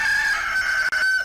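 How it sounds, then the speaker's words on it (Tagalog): A rooster crows one loud, close, sustained call that holds steady before trailing off. "tumilawak pa rin ang manok."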